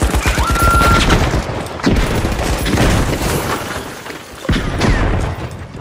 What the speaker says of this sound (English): Oh, I hear shots.